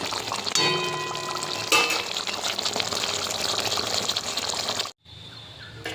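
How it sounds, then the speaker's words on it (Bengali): Cooked gati kochu curry is poured out of a pan, giving a continuous wet, sloshing pour with a few scraping clinks. It cuts off sharply near the end, followed by a quieter tail. "এবার ঢেলে নেব রান্নাটা পুরো তৈরি হয়ে আছে"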